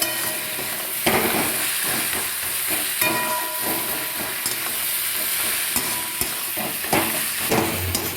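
Mashed pointed gourd with garlic, green tomato and green chilies stir-fried in a pan, a steady close sizzle broken by repeated scraping stirs, with no talking.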